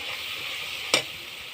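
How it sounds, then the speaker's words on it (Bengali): Spice paste sizzles steadily in hot oil for a Bengali duck curry, with one sharp louder scrape or clatter near the middle as the masala is stirred. "এবার মশলাটা ভালো করে কষিয়ে নেব।"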